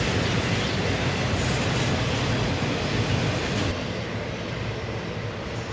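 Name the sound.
CSX freight train passing, ET44AH DPU locomotive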